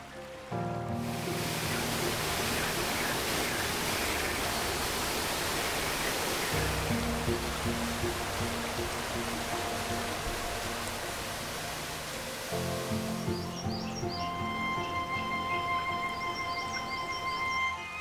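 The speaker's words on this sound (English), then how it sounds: "At lower altitudes, the streams come together and the riverbeds become wider and stronger." Mountain streams rush together into a wider riverbed, a loud, steady broadband roar of flowing water with no voices, under a soft musical score.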